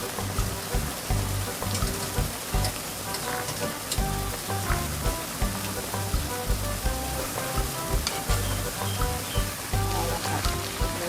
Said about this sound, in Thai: ค่อยๆทอดไปนะคะพอเหลืองๆนะคะ